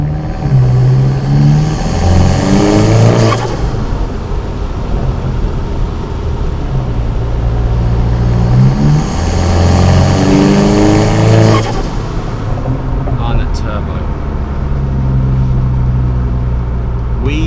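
A turbocharged VW Scirocco R making 385 bhp accelerates hard on a late-night road, the engine climbing loudly through two long rising pulls with a drop and gear change between them, close and dominant throughout.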